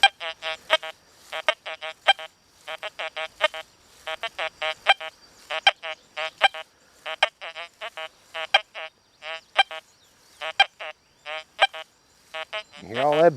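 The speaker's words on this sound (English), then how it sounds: "You hear all that buzzing going on?" Deus 2 metal detector in Sensitive FT mode at default ground balance, over mild ground, giving off repeated short, rapid buzzing bursts in an irregular stream, fairly loud and close, with a brief low voiced sound at the end.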